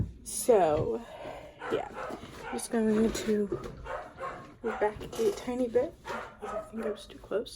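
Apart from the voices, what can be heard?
dog barking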